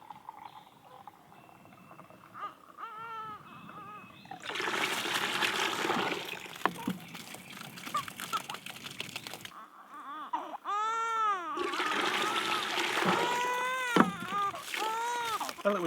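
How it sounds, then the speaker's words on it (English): Water from a full gallon pipe dumps out of a Shishi Odoshi fountain into a 3/4 inch U siphon, making loud rushing gushes in two bursts with gurgling, bubbling trickles between them, heard up close. "the water dropped from this volume of pipe in this Shishi Odoshi fountain is not quite enough to get the 3/4 inch U siphon going"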